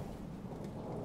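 Thunderstorm and heavy rain in the video game Rain World, a steady dense roar of rainfall with rumbling thunder filling the short stretch, loud and continuous with no voices.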